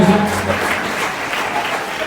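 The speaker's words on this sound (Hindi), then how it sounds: "भरपूर तालियां हो जाए" A crowd at a prize and wheelchair presentation ceremony applauds steadily, a dense, continuous clapping that fills the space, with a voice briefly heard at the start.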